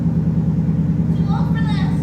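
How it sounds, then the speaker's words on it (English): A Ford Mustang engine idles loudly after a cold start, a dense, steady low drone with a pulsing throb, while a voice speaks faintly over it toward the end. "It's a little loud. It's a little bit. It's just cold start."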